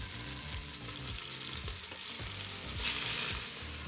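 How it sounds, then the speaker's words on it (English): A beef roast seasoned with steak seasoning, black pepper and pink Himalayan salt sizzles steadily as it sautés in an Instant Pot, with a continuous crackle broken by occasional scraping stirs. "The roast is now sauteed"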